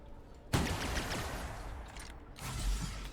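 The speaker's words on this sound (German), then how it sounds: "Ja, schnell, schieß, schieß, schieß." Gunfire in The Outer Worlds video game, a sudden onset of rapid, clattering shots that continues as a sustained burst, briefly thins, then surges again near the end, fairly quiet overall.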